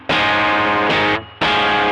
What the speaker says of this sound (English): even if I turn up the overdrive on the Tube Screamer side to match the distortion